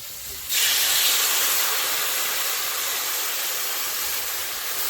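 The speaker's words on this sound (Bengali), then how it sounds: "এখন জল দিয়ে দিচ্ছি" Water poured into a hot pot of fish curry with turmeric and cumin paste bursts into a loud, steady steam hiss that starts abruptly and holds close for several seconds, slowly easing.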